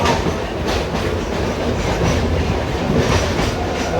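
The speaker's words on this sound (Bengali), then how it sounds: "ট্রেনটা ডান দিকে চলে যাচ্ছে" A Kolkata Circular Railway train runs along the tracks, a steady loud rumble with rhythmic clickety-clack from the wheels, heard from on board without talk.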